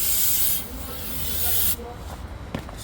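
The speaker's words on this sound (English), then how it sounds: "we're going to spray it down with brake cleaner and then wipe it down with a paper towel" Brake cleaner sprayed from an aerosol can onto a new brake rotor during a brake and rotor job on a Hyundai or Kia SUV, a loud steady close hiss that stops abruptly partway, followed by quieter handling noises.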